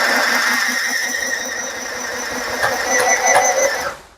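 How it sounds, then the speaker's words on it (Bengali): Portable electric sewing machine running steadily with a continuous whirring motor hum and a rapid mechanical ticking of the needle, close up and alone, fading out at the end. "এই সিলাই মেশিনে এই যে এটা আমি রানিং করে দিলাম"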